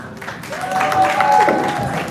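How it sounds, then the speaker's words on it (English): A room full of people claps steadily, broad loud applause with some crowd noise and a voice sounding over it, at a rave event in Kampala, Uganda. "Clap for the host."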